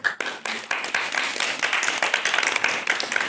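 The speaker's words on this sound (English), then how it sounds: "I want to also give a warm applause to the CMC for having us tonight." An audience claps and applauds at an evening community gathering, a dense, steady patter of many hands that builds quickly and carries on throughout.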